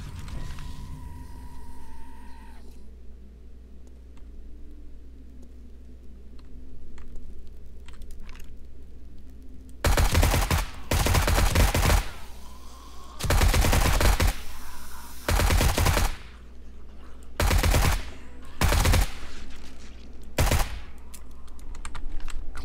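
Automatic gunfire from a weapon in the game 7 Days to Die, Darkness Falls mod, comes as several loud, sharp bursts of rapid shots after a quiet stretch, with short pauses between the volleys.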